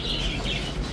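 Lovebirds in pairs at a crowded animal and bird market by the old Diyala bridge in Baghdad, with bright chirps and tweets over dense, loud, constant market noise.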